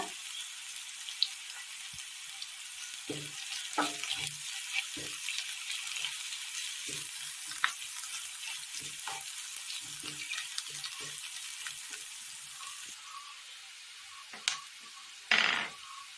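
Chopped shallots and dried red chillies fry in hot oil for a pomegranate pachadi, a steady close sizzle broken by several soft knocks and stirring clatters, with a brief louder burst near the end.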